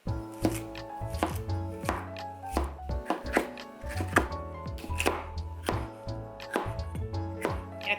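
Knife chopping ingredients on a cutting board for hamburg steak, a steady series of close, crisp thunks in an irregular rhythm with no talking.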